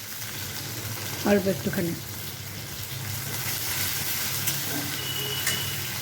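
Chopped tomato and green chilli frying in a pan give a steady, close sizzle and hiss that runs throughout, with someone briefly speaking over it near the start.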